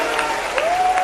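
Audience applause at a Hindi comedy poetry show, a short burst of dense clapping with a voice briefly singing or calling over it.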